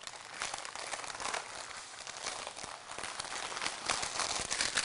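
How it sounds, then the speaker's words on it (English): Greaseproof paper crinkles and rustles as a tortilla is rolled up tightly in it, a close, continuous dry crackling with small bursts and no voices. "Take a piece of greaseproof paper, sit your tortilla on the top and then roll it up tightly."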